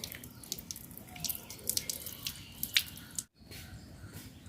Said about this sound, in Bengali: মাছটা ধুয়ে নিতেছি। তো ধোয়ার পরে কাটবো। আর আমরা ছাদেই কল লাগাইছি, ছাদে ধুয়ে নিতেছি।